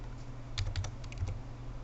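A computer keyboard typing a short value during an After Effects session, a handful of quick, close key clicks in a brief burst over a steady low hum, with no talk.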